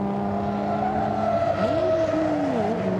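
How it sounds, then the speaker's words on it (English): A race car at Goodwood SpeedWeek brakes hard, slides and spins; a loud, near engine drone with shifting pitch and a sweeping tone as the car rotates, heard alone without talk. "It was under braking whoops, big slide, round it goes."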